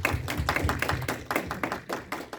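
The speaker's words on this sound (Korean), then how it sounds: "우리 환영의 박수로 격려하겠습니다." Welcoming applause from a church congregation during a Sunday worship service, a short burst of clustered clapping that stays fairly close and even before trailing off.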